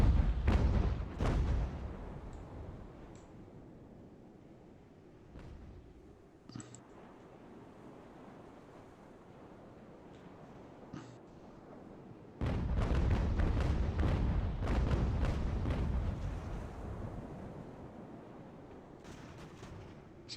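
Naval cannon fire from sailing warships in the game Ultimate Admiral: Age of Sail: several sharp booms early on, then a dense, louder stretch of rolling cannonade and battle noise in the second half, with no talk.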